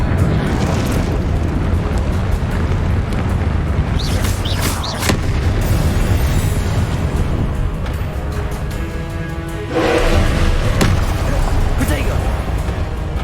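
Spell blasts from Hogwarts Legacy, with Confringo fireballs and Expelliarmus bursts, burst repeatedly in booming explosions and crackles over dense combat noise while a voice shouts spell names throughout.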